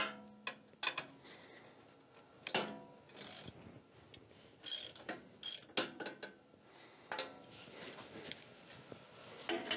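A ratcheting socket wrench with an 11/16 socket works on tractor seat bolts, clicking in irregular bursts of quick pawl ticks with scraping and knocking in between, close and fairly quiet.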